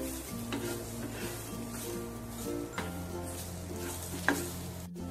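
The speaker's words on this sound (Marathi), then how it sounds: "त्याला आधी छान परतवून घ्यायचंय आपल्याला." Thinly sliced onion is sautéed in a pan, giving a soft, continuous sizzle with occasional scraping stirs and light taps, heard under faint background music.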